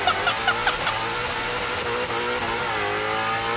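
Car engine in the Warzone video game, the vehicle driving sideways: a steady, loud mid-pitched engine drone with rising and falling harmonics as it revs, alone without talk.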